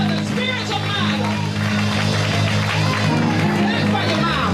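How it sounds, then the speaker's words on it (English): Church congregation clapping along during a service, a loud, continuous patter of hands mixed with cheering voices and shouts over sustained low music. "Clap for your mama."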